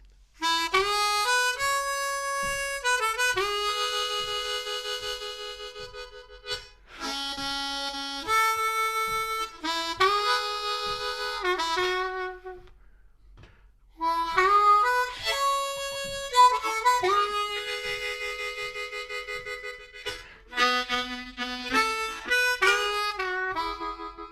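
A harmonica plays a clear single-note melody without tongue blocking, in short phrases with brief pauses, close and fairly bright, with no talking.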